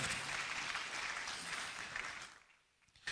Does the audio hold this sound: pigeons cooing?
no